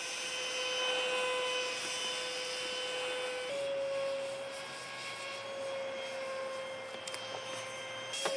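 A scratch-built trainer jet's 70mm EDF with a 3000kv motor on a 14-volt battery whines steadily, its tone jumping higher partway through as the throttle comes up; loud and alone, with no talking.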